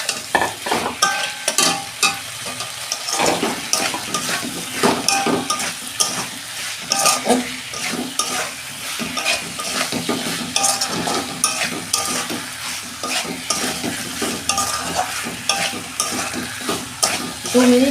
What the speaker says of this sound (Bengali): দু মিনিট আমি একটু কষে নেব।